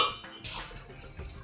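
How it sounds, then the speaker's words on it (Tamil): A lid goes onto a pot of simmering besan-thickened vegetable sabzi, giving a close metallic clatter near the middle, with light kitchen clinks and soft bubbling around it. "மூடி வச்சுடுறேன்."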